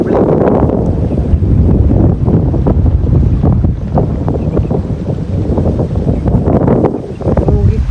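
Strong gusting wind buffets the microphone while waves wash steadily against the shore at a lakeside watering spot in Gundlupet, Karnataka, a loud continuous roar with surging swells throughout.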